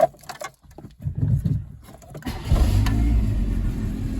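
A 1986 Peugeot 205 GR with a 1.1 litre petrol engine, about 221,000 km, starting up: a brief cranking whir, then the engine catches almost immediately and settles into a steady, rumbling idle, close and fairly loud.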